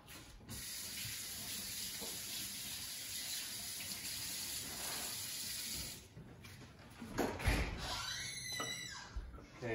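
Tap water runs steadily into a kitchen sink while hands are washed beneath the stream, a continuous close splashing rush that shifts and grows more uneven near the end as the hands move through the flow.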